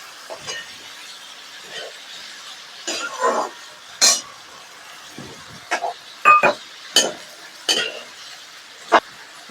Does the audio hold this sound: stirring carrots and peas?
yes